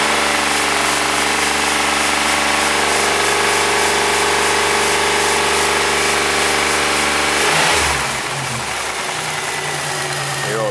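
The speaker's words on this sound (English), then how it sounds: "Once the oil circulates and gets warm and brings those lifters back up, that noise will go away." A Chevrolet Lumina engine idles just after an engine swap, ticking from its lifters in a loud, steady drone that shifts and thins near the end, with no talking.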